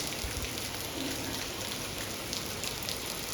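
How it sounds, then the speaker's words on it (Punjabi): Steady rain falls on a Punjab farm during the monsoon, a dense continuous patter with a constant hiss and no voices. "ਹੁਣੇ ਵਧੀਆ ਟੈਕੇ ਮੀਂਹ ਪੈ ਰਿਹਾ"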